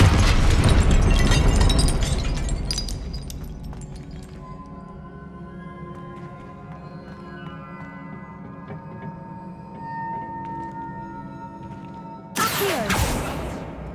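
Confringo and Incendio spell blasts in the Hogwarts Legacy game, a loud broad explosion at the start decaying into a ringing tail, followed near the end by another sharp, bright burst.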